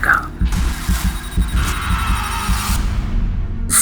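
A heartbeat sound effect from a Hindi-dubbed action film throbs in a steady low pulse under a tense hum and a rising mechanical drone, with brief tonal stingers.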